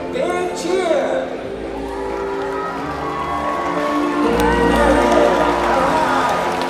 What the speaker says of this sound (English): when Malia does this jump, let's give her a great big cheer